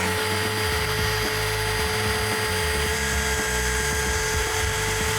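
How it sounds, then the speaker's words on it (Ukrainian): A Dnipro-M BS-100S belt sander runs loud and steady, a constant high whine over a rumbling motor with no pauses. "можемо вмикати шліфмашину"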